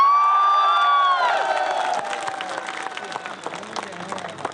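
Applause and cheering from the crowd at a BJP victory pledge rally in Dantaramgarh, Rajasthan, loud at first with a shouting voice on top, then easing into scattered clapping and crowd noise that fades out.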